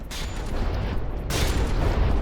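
Shells strike a warship in the From the Depths naval combat game, making a dense, rumbling roar of explosions that swells again partway through, loud and continuous with no speech.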